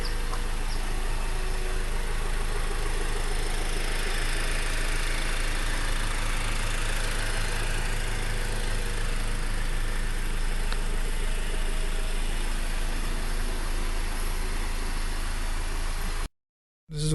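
A Honda Accord four-cylinder sedan with a normal-running engine idles steadily, heard from the other side of the car with the hood closed, giving a continuous low hum and mechanical whir with no talk.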